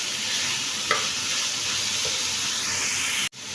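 Fried rice is stirred and tossed in a hot pan, with a steady loud sizzle and hiss throughout, a couple of soft utensil taps, and a sharp break near the end.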